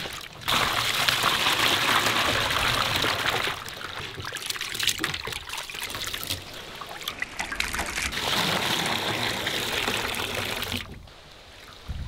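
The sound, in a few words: water being poured over prawns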